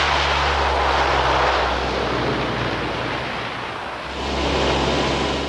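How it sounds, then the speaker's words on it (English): An aircraft takes off on a flight to film a total solar eclipse, a loud, steady engine roar with a deep low drone that dips briefly and swells again, no talking. "After safety checks, it's time to take off."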